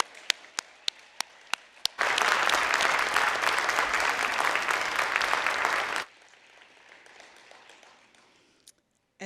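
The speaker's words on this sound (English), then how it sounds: "Can we just give them another round of applause" After a few sharp isolated claps, an audience at an MLK Day ceremony bursts into loud sustained applause for about four seconds, then it drops away abruptly, leaving quiet room noise and a stray clap.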